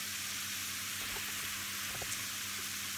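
Chili with red kidney beans sizzles steadily in a pan while being stirred, a loud, even hiss with a few soft scraping knocks from the stirring and no voices.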